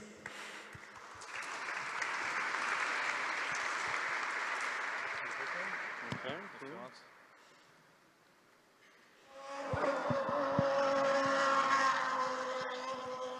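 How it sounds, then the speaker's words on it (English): An audience applauds loudly at the ZK Hack Montréal hackathon closing ceremony, a sustained broadband clatter that fades into near quiet before a buzzing, engine-like tonal sound rises. "Applause, please."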